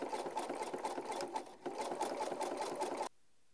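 A sewing machine stitches a messenger bag in a steady, fast-running whir for about three seconds, close and fairly quiet, then stops abruptly into near silence.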